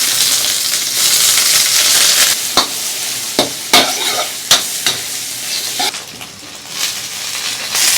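Ham and egg stir-frying in hot oil for a fried instant noodle dish, with a steady close sizzle broken by sharp scrapes and clacks of the spatula against the wok.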